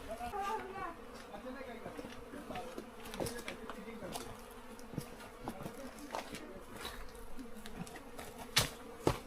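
A swarm of bees stirred up around a narrow cave path, buzzing steadily in the background while people talk over it, with a few sharper knocks and rustles near the end.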